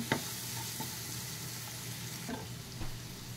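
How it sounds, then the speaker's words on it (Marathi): Coriander and cumin powder being stirred into a sizzling masala for hotel-style palak paneer, a continuous close frying hiss with a few soft spoon scrapes. "आता धने पूड, जिरे पूड घेतले ते घालत आहे। पूर्ण मिक्स करायचे।"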